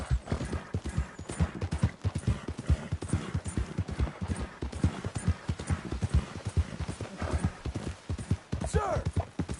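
A horse's hooves clip-clop in a steady, brisk rhythm in Red Dead Redemption 2, close and continuous throughout, with a faint whinny near the end.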